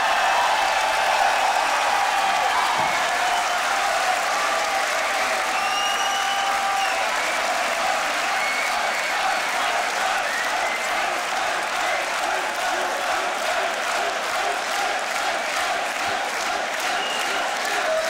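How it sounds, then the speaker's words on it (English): Crowd at the Grand Beatbox Battle 2021 applauds and cheers after a split decision in a solo beatbox battle, loud, sustained clapping from a large audience that tapers slightly toward the end. "Split decision, give it up for B Art."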